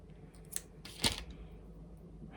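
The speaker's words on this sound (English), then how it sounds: "I'm gonna carefully cut those off." Scissors snipping off loose threads on a sewn wig strap: a couple of quick, quiet snips, the second slightly louder, over a low room hum.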